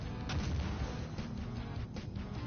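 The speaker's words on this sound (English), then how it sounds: "I just hear explosions" Rumbling booms and bursts of explosions from the video game Doom SnapMap roll on continuously, dense and low, with no talking.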